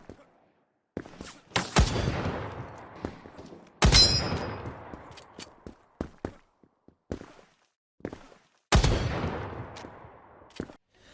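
Gunshots in the browser shooter Krunker, three loud, sharp reports each trailing into a ringing decay, mixed with a few quicker, lighter pops and clicks in between, close and with no talking.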